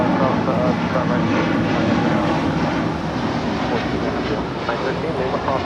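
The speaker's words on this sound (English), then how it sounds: "This is El Al, Flight 6 Heavy, departing to Tel Aviv on a 787-9 Dreamliner in the Jerusalem of Gold livery." An El Al Boeing 787-9 Dreamliner jet departing Los Angeles International Airport, a loud continuous engine roar filling the air throughout, with a voice speaking over it.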